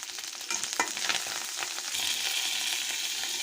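Vegetables with onion, curry leaves and coriander fry in a pan for a spinach fry, a close bright sizzle with stirring scrapes that grows a little busier toward the end, with no talking.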